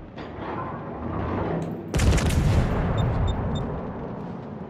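Battleship main guns firing in the naval game World of Warships on the Italian battleship Giulio Cesare: one heavy, booming salvo strikes suddenly midway and rumbles on, over a steady low background hum with no speech.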